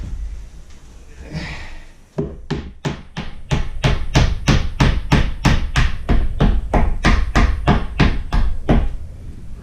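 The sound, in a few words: hammering with a piece of wood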